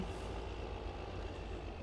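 A tractor engine idles in Farming Simulator 15, a low, steady rumble with a faint hiss above it, running evenly and quietly without pauses for about two seconds.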